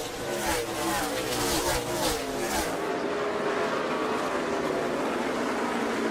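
NASCAR stock cars roar around Bristol on the final lap of a 2019 race, a dense continuous engine drone with passing surges fading into a broad steady roar.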